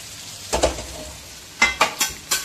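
Kadai chicken sizzling in a pan while a spoon or spatula scrapes and stirs it in several distinct strokes against a low frying hiss.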